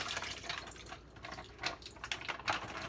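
Liquid is poured from a plastic bag into a bowl, giving a soft, continuous splashing trickle with drips close by and no talking.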